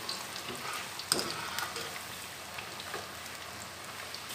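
Vegetables frying in hot oil for a Punjabi-style mixed vegetable dish, a steady soft sizzle and crackle close by, with an occasional sharper pop and light stirring, no talking.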